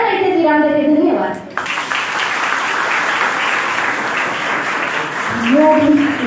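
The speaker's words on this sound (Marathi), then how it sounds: "टाळ्यांचा कडकडाट अजिबात कमी होता कामा नये" An audience claps and applauds after a speech at a speaking competition, a dense sustained burst of clapping, with voices talking over the start and end.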